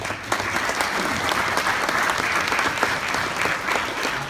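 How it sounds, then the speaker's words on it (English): Applause from a keynote audience, a thick, sustained burst of many people clapping together at an even level throughout, with no speech over it. "a round of applause for all the families that support each and every one of us"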